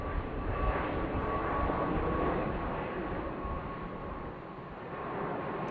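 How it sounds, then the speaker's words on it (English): EVA Air airliner in Pikachu livery lands at Boeing Field in the evening, its jet engines a steady broad roar from a moderate distance that eases slightly toward the end, with no talk. "That's our Pikachu plane"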